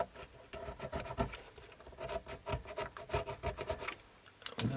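A light scourer scrubs a car instrument, likely an HQ Holden speedo, in steady close rasping back-and-forth strokes with an even rhythm throughout.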